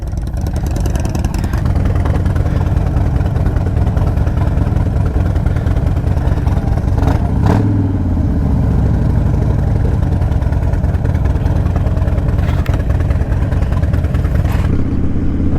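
Harley motorcycles and a trike idle steadily up close on a warm day before a ride, a continuous low engine rumble with a couple of brief throttle blips partway through, no talking.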